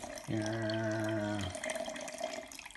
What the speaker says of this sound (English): 300 grams of water, in it goes.